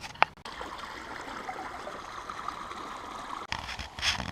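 Heathcote Creek below a dam in Heathcote National Park runs with a steady rushing flow, close by, broken by a couple of brief knocks and handling noises.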